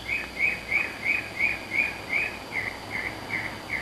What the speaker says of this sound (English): As you can hear, we got birds around here.